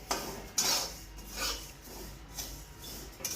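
Sesame seeds roast in a pan over low to medium heat while a spoon stirs and scrapes them in uneven strokes, with light rustling and a few metallic clinks, close and moderately loud, with no talking.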